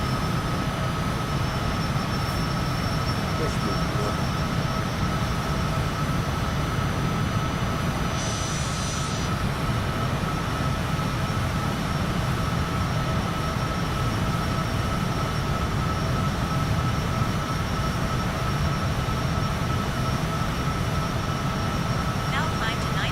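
A steady, loud jet engine roar holds constant during a takeoff run in a flight simulator, a broad rushing drone with a thin whine on top and no break.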